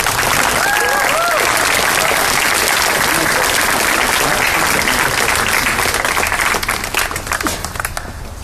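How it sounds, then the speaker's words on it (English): Crowd at a vigil applauding steadily and loudly, a dense wash of many hands clapping that fades slightly toward the end, with faint voices mixed in. "let's give her one more round of applause to get the shyness out"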